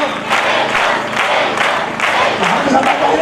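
A crowd at a religious gathering claps and shouts a loud, rhythmic welcome in unison, voices and clapping rising in repeated bursts over a steady dense roar.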